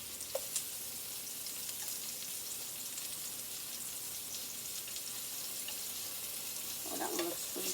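Mushrooms, including shiitake, fry in a pan with a steady, close sizzle and crackle that runs throughout, with a few brighter pops near the end.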